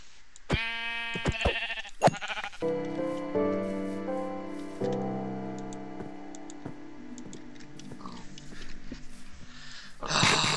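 Sheep bleating inside a Minecraft game, several harmonic bleats at close range early on, then sustained tonal game sounds and faint clicks, with no talk over it.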